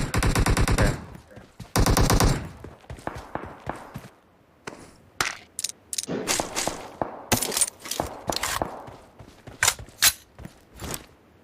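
Gunfire from the video game PUBG Mobile comes in two dense automatic bursts, then scattered single shots and short volleys, loud and close, with a few soft footsteps between them.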